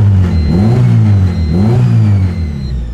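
A turbocharged Honda EK hatchback engine idles loudly up close and is revved twice in quick swells, each rise and fall clearly audible over a steady rumbling idle.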